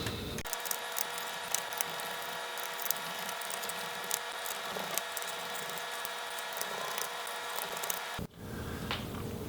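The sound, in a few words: removing screws from MacBook Air A1466 laptop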